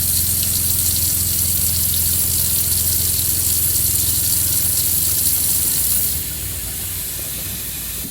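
A faucet in a Mallard M-185 camper runs a steady hissing stream of pink antifreeze, loud and constant, then drops to a quieter flow near the end, with no voices.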